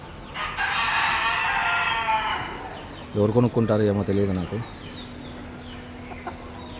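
A rooster crows close by at a Kuwait animal auction where sick, patchy-feathered chickens are kept, with a steady noisy hubbub in the background and someone talking.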